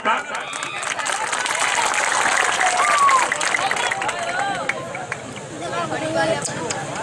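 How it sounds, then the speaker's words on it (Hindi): Audience at an evening ghazal mushaira in Khedupura, Mau, clapping to welcome a poet, a sustained crowd applause with voices and chatter mixed in, loud and continuous. "एक एक शख्स के हाथ से ताली बजनी चाहिए"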